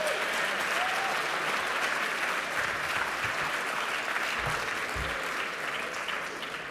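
Sustained audience applause fills a hall for Boston Mayor Martin J. Walsh, a steady dense wash of clapping from a large crowd that holds at an even level throughout.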